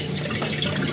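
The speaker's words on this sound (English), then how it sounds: "As you can see, the water is less white, so I'm gonna take the water out" Cloudy rinse water is poured out of a pot of rice, making a continuous close splashing, gurgling stream of liquid.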